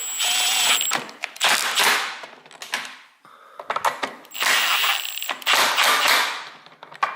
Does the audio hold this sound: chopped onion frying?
no